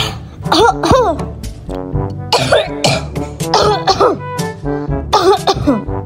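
A cartoon character sick with a fever coughs and clears her throat again and again in close, loud bursts, voiced by a performer in several rough fits.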